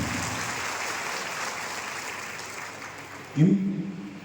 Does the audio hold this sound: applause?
yes